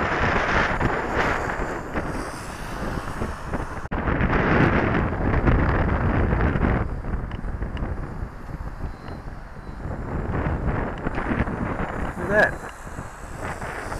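Strong outdoor wind buffets the microphone in a continuous rough roar with gusty surges while a model open-wing aircraft is flown on its maiden flight.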